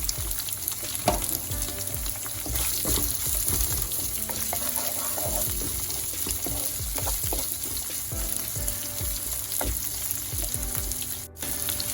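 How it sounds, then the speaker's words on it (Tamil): Onions, shallots and green chillies with curry leaves sauté in a hot pan. A steady close sizzle runs throughout, broken by frequent clattering scrapes of stirring. "பச்சை மிளகாய் எல்லாம் சேர்த்துட்டு நல்லா வதங்க விடுவாங்க"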